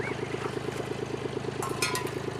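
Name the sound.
tractor engine running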